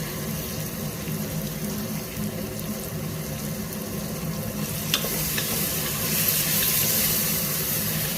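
Boiled beans fry in hot oil in a pan, making a dense, continuous sizzle with stirring scrapes that grows slightly louder near the end, with no voices.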